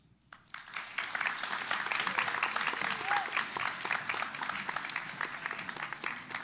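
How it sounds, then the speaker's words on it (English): Applause from a school audience after a grade 11/12 spoken word performance starts abruptly and continues as a lively, fairly close patter of many hands, with a faint voice briefly mixed in. "Give Haley another round of applause"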